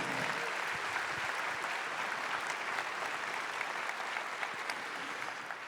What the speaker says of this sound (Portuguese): Dê uma salva de palmas a nosso Senhor.